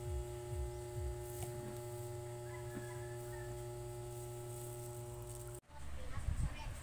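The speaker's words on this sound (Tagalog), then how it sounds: "yung dalawang electric pan, ayan, tinitesting ni Papa Bits kung hanggang saan yung ikot." Two electric fans run together while being tested, giving a steady mechanical hum with mains-like tonal drone that continues evenly, then cuts off abruptly near the end, followed by rustling handling noise.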